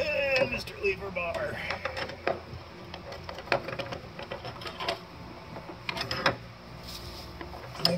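Metal clinks and scrapes as two open-end wrenches are fitted between the coils of a Vogtland lowering spring for an 82-92 Camaro, sporadic close knocks with someone talking throughout.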